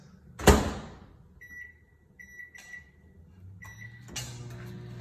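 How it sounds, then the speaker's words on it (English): A microwave door slams shut, followed by several short keypad beeps, then the oven starts with a low running hum and fan whir. "And we're gonna put it in the microwave"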